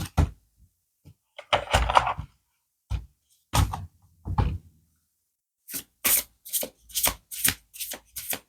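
Tarot cards shuffled and drawn close by in a quiet room: a scatter of soft taps and a brushing shuffle, then a quick run of sharp riffling slaps near the end.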